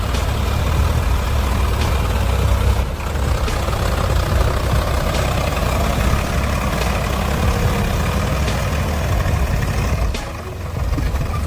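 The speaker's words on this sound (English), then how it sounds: "the mighty Sonalika Sikandar tractor, loaded with goods on an overloaded trailer, gets stuck in a deep mud puddle" A Sonalika Sikandar tractor pulling an overloaded trailer of goods sits stuck in a deep mud puddle. Its engine runs with a steady, heavy, low rumble throughout, easing briefly a couple of times.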